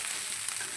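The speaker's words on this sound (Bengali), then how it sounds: "এটার নাম হচ্ছে ভাত ভাজা" Rice frying in a kadai gives a steady, close sizzling hiss for the whole moment, even and unbroken, with no voices.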